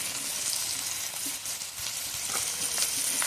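Turmeric, chili, coriander and cumin powders frying in oil for a Bengali potato curry, a continuous close sizzle with faint stirring scrapes, no voices.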